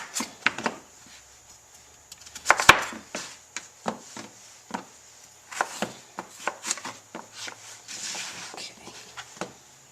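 Knife chopping a sweet potato into small pieces on a cutting board in a home kitchen, a steady run of close, crisp thuds with short gaps, one sharper knock early on.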